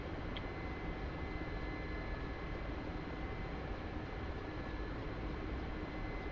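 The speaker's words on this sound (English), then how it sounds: "The Mi8 spooling right now." Mi-8 helicopter engine spooling up in the DCS flight simulator, a steady, dense turbine roar that holds evenly throughout with no voices.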